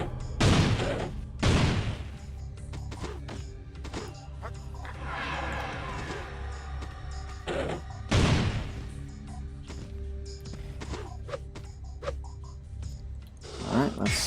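Several loud booming cannon blasts in the video game Ferazel's Wand come at irregular intervals, each a sharp crash with a short ringing tail, over quieter game noise and scattered clanks.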